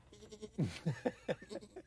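A voice imitates a sheep bleating, giving a short, wavering series of nasal baa-like pulses, close and fairly soft, lasting under two seconds.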